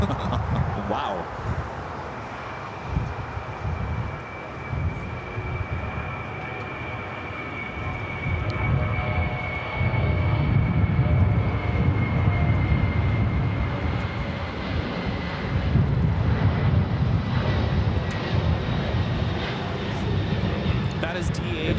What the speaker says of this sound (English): That is DHL, operated by ABX Air, Flight 410, taking off to Cincinnati on the 767-300 converted freighter.